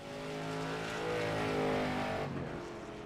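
Street stock race cars in the iRacing video game at Langley, engines droning steadily and swelling slightly mid-lap during heavy lap traffic, with a continuous close roar that eases near the end.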